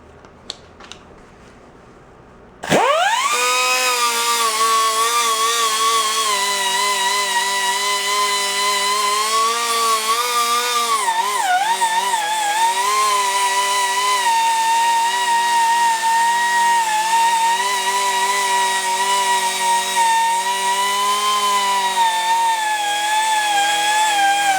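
A grinder spins up after a brief quiet start during a custom bike build, then holds a loud, steady, whining hum, dipping briefly in the middle before it keeps running alone with no talk.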